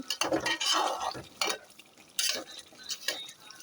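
Goat meat curry is stirred and mixed in a pot, spoon scraping and clinking in a few brisk bursts against the metal over a faint sizzle.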